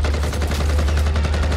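Loud, dense bursts of gunfire, like rapid automatic weapon fire, fill a Spanish-language film trailer in continuous close-range volleys.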